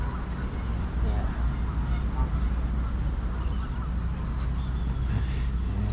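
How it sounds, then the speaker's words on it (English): Ducks and geese on a marsh at Echo Park's Lotus Garden, honking and quacking amid a constant broadband outdoor wash, with faint voices and distant traffic. "yet another duck swimming or standing or resting in the marsh"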